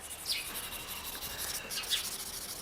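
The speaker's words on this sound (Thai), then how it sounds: "ใบมันหนา มันก็เลยพอพอถูสี มันก็จะสีดัง" Thick, hairy, stiff leaves of the Nepenthes hirsuta pitcher plant rubbed together, making soft, close, dry scratchy rasps, with two brighter strokes standing out over a low continuous brushing, no talk.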